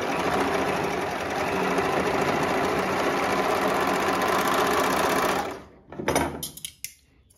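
A domestic sewing machine runs a steady, close stitching seam on underwear fabric for about five seconds, then stops abruptly, followed by a few short handling clicks and rustles.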